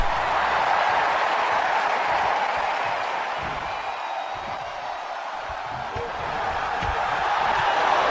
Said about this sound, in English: The crowd pumping him up.